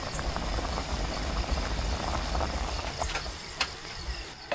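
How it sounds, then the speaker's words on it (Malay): Chicken simmering in a pot of water at a forest car-camping site, giving a steady low bubbling hiss with faint clicks throughout. Nobody talks. "Bagi dia rebus sikit je."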